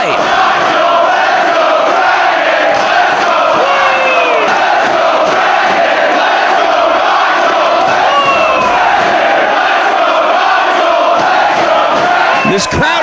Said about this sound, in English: This crowd is split in their support for both of these athletes.